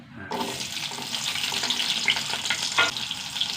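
Fenugreek seeds and small shallots frying in hot oil in a pan, a bright crackling sizzle that bursts in abruptly and keeps popping close by, with a couple of sharper spatters near the end.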